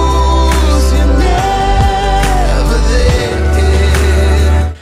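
A NoCopyrightSounds track plays on its own: a loud, full electronic mix with a deep sustained bass, layered synths and rising sweeps, and a short dip in the low end near the three-second mark.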